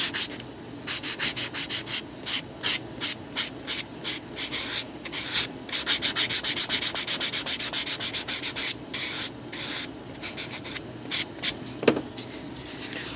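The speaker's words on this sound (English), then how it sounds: "we were talking about sanding down this end just a little bit" Steady hand sanding on the hinged end of a flap for an Airbus A380 scale model, rapid scratchy strokes repeating in quick bursts with brief pauses, close and fairly loud, with no talking.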